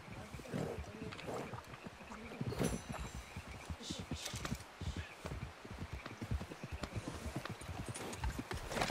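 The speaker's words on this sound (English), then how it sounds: "I need to feed the horse here." Horse hooves clip-clopping in the Western video game Red Dead Online, a steady run of fairly faint, close hoof beats over a soft background bed.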